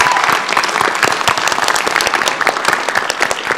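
A live panel audience at PAX East breaks into loud, dense applause, many hands clapping steadily and close for the whole stretch.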